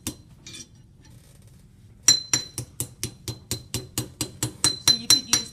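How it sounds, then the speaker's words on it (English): A hammer strikes metal to bend and curve it, likely on an anvil, with about fourteen sharp ringing blows in a steady, quickening rhythm after a few quieter taps. The blows are close and bright, with no talking. "I can also try to bend this down a little bit with a hammer."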